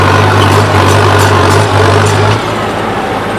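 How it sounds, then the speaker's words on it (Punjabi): A tractor engine running at fairly low revs in a farm field: a loud, steady low drone that stays up close and then drops slightly in level near the end, with no voices. "ਆਪਣੇ ਵਾਲਾ ਜਿਹੜਾ ਟਰੈਕਟਰ ਹੈ ਥੋੜਾ ਸਲੋ ਚੱਕਰ 'ਚ ਹੈ"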